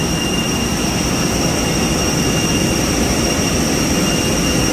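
A steady, loud roar of an airplane's jet engines at an airport fills the whole span without letup, with no talk over it.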